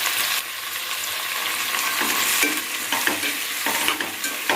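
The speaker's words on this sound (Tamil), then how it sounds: "தக்காளி வந்து கொஞ்சம் நல்லா வதங்கட்டும்" Tomatoes with a little salt sautéing in a pan for Kongu-style horse gram rice, a close, steady sizzle broken by intermittent scraping and stirring of a spoon, with no voices.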